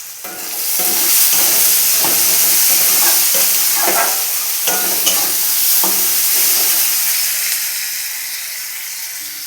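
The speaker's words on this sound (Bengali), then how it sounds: "এবার পেঁয়াজগুলো দিয়ে ভেজে নেব লাল করে। পেঁয়াজটা যাতে নরম হয়ে যায় আমি নুন দিয়ে দেবো।" Chopped onions with a pinch of salt sizzle in hot oil in a pan, a steady, close frying hiss broken by light scrapes and clinks as they are stirred, with no talking.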